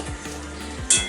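Pieces of katla fish fry in hot white oil until deep brown. A soft, steady sizzle runs throughout, and a brief metallic clink sounds near the end.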